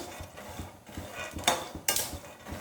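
Peanuts roasting in a pan over a medium flame are stirred with a utensil, soft rhythmic scraping and rattling of nuts against metal, with a couple of sharper clinks near the end, quiet and close.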